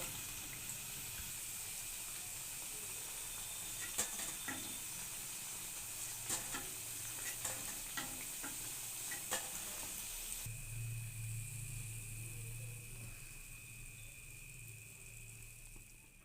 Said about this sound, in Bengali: একইভাবে সবগুলো ভেজে নেব।